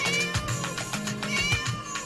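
A cat meows repeatedly in a video game about rescuing a cat from an angry teacher, with bright, drawn-out cries running almost continuously over a low game background hum.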